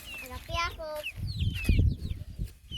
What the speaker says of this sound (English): All the other chickens are checking them out.